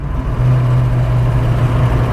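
Car driving along at steady speed, a low continuous engine and road hum close in the cabin, alone with no talk.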